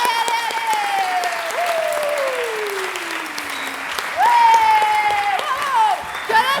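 Crowd applause after a cabaret theatre performance, a dense steady wash of clapping with bright whistles gliding over it and cheers that swell near the end.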